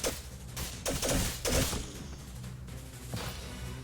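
Units firing weapons in the Age of Wonders Planetfall strategy game: a few sharp bursts of gunfire with whooshing impacts in the first two seconds, then a softer shot later, moderately loud.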